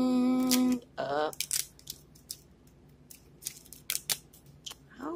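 Scissors snip repeatedly through plastic blind-bag packaging in short, crisp bursts, with crinkling plastic between the cuts, after a brief tonal beep at the start.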